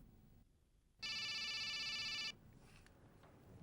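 A cellphone rings with one bright electronic tone lasting just over a second, clear against a quiet room.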